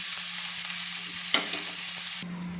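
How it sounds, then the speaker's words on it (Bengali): Fried prawns in hot oil sizzle steadily while a spoon lifts them out, with a brief scraping clink midway, before the frying noise drops off sharply near the end. "এবার আমি একে তুলে নিচ্ছি একটা চামচের সাহায্যে"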